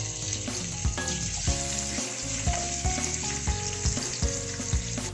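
Garlic frying in a pan as the first step of an escabeche sauce, a steady loud sizzle with repeated stirring and scraping strokes of a utensil against the pan throughout.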